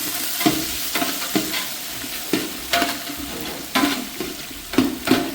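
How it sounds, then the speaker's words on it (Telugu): Onions and green chillies fry in a pan for bagara rice, sizzling steadily under repeated stirring strokes with a spatula, each scrape rising sharply above the constant hiss. "గోల్డెన్ బ్రౌన్ కలర్లో వచ్చేంత వరకు వేపుకున్నాం"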